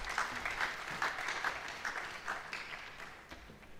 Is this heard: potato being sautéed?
no